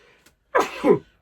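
A single person's sneeze bursts out close by, a sharp two-part expulsion lasting about half a second after a near-silent pause, with no talk.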